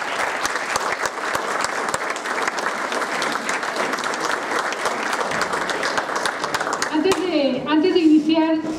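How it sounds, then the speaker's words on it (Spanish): An audience at a festive public event in Cadereyta, Nuevo León, breaks into steady, dense applause that carries on for several seconds before a voice begins speaking over the fading claps. "a los dos les pido un fuerte aplauso."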